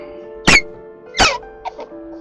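Two sharp, scraping squeaks of tight threaded parts of a TYPE1s assembly forced together, followed by a couple of fainter creaks, close by with no talking.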